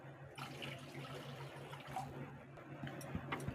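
Water being poured into a pan while cooking suji halwa, heard as a steady, soft trickling and splashing over background hum, continuous for several seconds.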